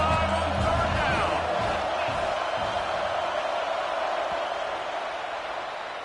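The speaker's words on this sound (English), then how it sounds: "The Buckeye crowd alive on 3rd down." Stadium crowd at an Ohio State Buckeyes football game roaring on third down, a broad sustained wash of cheering that swells early then holds, with a commentator's voice faintly in the mix.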